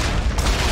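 Gunfire in the Dead Space 3 video game, a dense, booming burst of shots with heavy low-end rumble filling the whole moment, loud and close.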